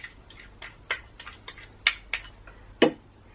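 Gluten-free plain flour and caster sugar being mixed in a bowl by hand: a quiet string of light scrapes and clinks from a utensil against the bowl, irregular and fairly close, with no talking.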